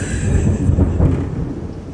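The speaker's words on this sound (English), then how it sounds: "Okay, this is a scary storm." Thunderstorm outside a house, with a loud, continuous low rumble of rolling thunder swelling and fading over steady rain.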